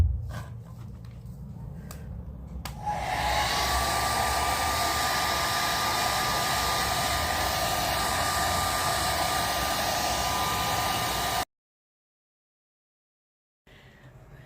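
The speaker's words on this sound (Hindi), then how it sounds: "Blow dry." A hair dryer blows steadily at close range as wet hair is dried after shampooing, a loud continuous whoosh that starts after a quieter opening, runs about eight seconds, then cuts off abruptly.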